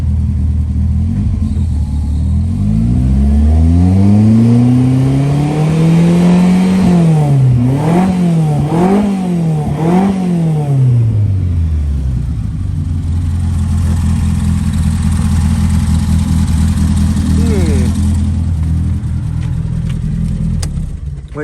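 A rally car engine with coolant contamination rises from idle through several sharp revs, then drops back to a loud, steady, rumbling idle close by.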